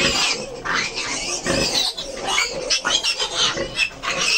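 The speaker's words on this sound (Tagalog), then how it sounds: "Ayan, pinainom na natin yung ating mga baboy." Newly castrated pigs drinking water, grunting and squealing steadily and loudly up close, with rough snorts and oinks overlapping throughout.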